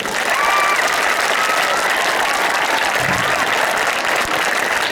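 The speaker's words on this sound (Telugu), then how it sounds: "గౌరవ తెలంగాణ ప్రభుత్వానికి ఒక్కసారి గట్టిగా చప్పట్లు" A crowd at a gurukul school event in Laxmipur, Jagtial claps loudly in sustained applause that fills the space evenly, with a faint voice briefly audible under the clapping.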